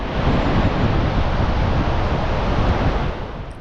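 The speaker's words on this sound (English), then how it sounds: "Linton Falls is a natural limestone waterfall." Water pouring over the natural limestone waterfall at Linton Falls: a loud, dense, unbroken roar of rushing flow heard up close, steady throughout and fading slightly at the end.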